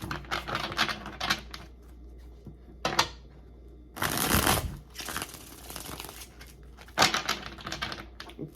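Tarot cards are shuffled by hand in several quick, crisp bursts of riffling and slapping, close and fairly quiet, with brief pauses between them.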